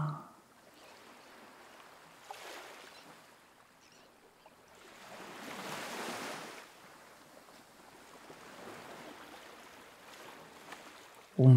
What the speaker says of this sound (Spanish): Un tranquilo mar acaricia la orilla.